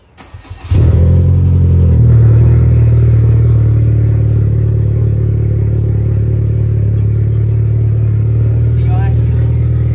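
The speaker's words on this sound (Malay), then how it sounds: "Nak start kereta ni kena tekan clutch" A manual car's engine cranks briefly, catches and settles into a loud, steady idle with a slight rev, running close by for several seconds with no pauses.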